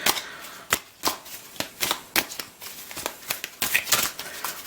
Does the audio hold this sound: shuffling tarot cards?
yes